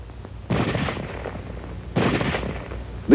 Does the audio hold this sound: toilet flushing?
no